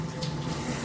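Water sprays from a handheld shower head on an all-metal 10-inch rainfall shower set, giving a steady, close, continuous rush of spray with no talking.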